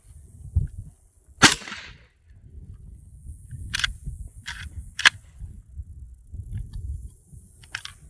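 A Tokarev TAR 12P shotgun loaded with 3-inch shells is fired manually at an outdoor range: one loud, sharp report, followed by several fainter, shorter cracks and clicks against a low rumble.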